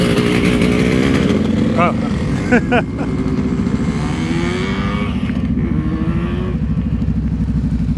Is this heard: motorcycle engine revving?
yes